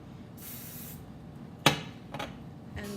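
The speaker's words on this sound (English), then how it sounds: "I'm gonna hit it with the hairspray" A short hiss of hairspray from an aerosol can, followed by a sharp tap and a couple of quieter handling sounds close up.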